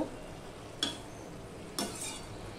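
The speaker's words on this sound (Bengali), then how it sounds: "এবার তরকারিটা একটু উপর নিচ করে দেব" Fish head and vegetable curry stirred in a pan, two distinct scrapes of a spoon through the thick mixture about a second apart over a low, steady simmer, no voices.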